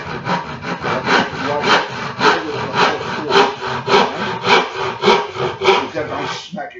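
A hand saw cuts through wood in steady back-and-forth strokes, a close, loud rasping rhythm of about a dozen strokes at an even pace.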